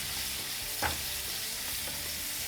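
Large-cut onions fry lightly in a pan for mudda pappu with avakaya rice, producing a steady close sizzle with one clear scrape of a spoon partway through.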